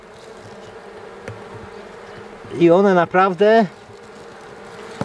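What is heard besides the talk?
honeybees buzzing as they fly from hive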